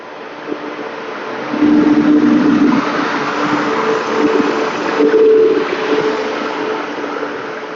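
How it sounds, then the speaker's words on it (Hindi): Korba–Visakhapatnam Link Express, hauled by a WAP7 electric locomotive, rolls into the station with a steady rumble of wagons and brief tonal squeals of wheels or brakes, heard fairly close and without talk. "train number 18517 Korba Visakhapatnam link express आ चुकी है 39145 विशाखापट्टनम WAP7 लोकोमोटिव के साथ"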